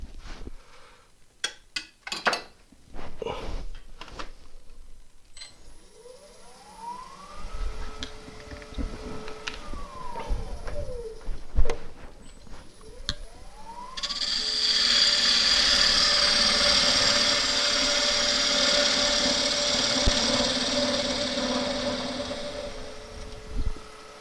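Wood lathe turning a monkey puzzle end grain bowl with a spindle gouge: tonal whine rising and falling as the lathe spins up, sharp knocks early on, then a loud, steady hissing cut from the gouge.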